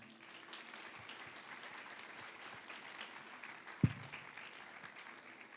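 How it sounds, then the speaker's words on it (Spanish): Church congregation at a Sunday service applauding quietly, a faint, distant spread of clapping with one sharp louder knock partway through. "¿Por qué no le da un aplauso al Señor?"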